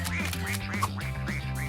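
Ducklings quacking in a repeated series of short, rising peeps, fairly close, over a steady low background hum with no talking.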